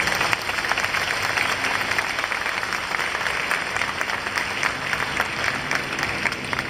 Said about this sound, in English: Please give them all a well-deserved round of applause.